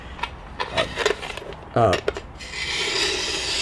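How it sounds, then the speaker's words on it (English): Fingernails rasp across rough, porous cast raw magnesium, giving a run of short dry scratches and a longer rough scraping stretch near the end, close and fairly quiet. "You run your fingernails over this and it's very scratchy sounding."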